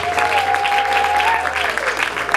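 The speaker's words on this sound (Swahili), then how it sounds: "Piga makofi kwa Yesu" A church congregation claps loudly and steadily in praise, with a voice or sustained tone carrying over the dense applause.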